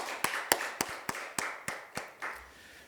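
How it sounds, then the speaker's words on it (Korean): A church congregation at an Easter Sunday service claps in a steady, even rhythm, about nine crisp beats in a row that fade out at the end. "우리 다시 한번 우리 부활의 주님께 영광의 박수를 돌리겠습니다."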